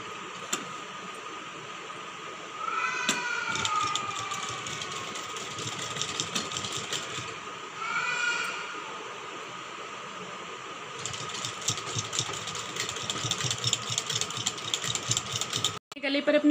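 A sewing machine stitches the neck strip of a princess-cut blouse, a steady mechanical whirring run that speeds up in brief louder bursts and continues for most of the stretch, with no talking.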